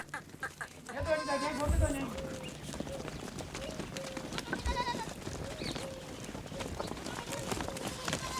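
Goats being led out of a house in the morning, with scattered bleats and clattering hooves close by over busy farmyard background noise.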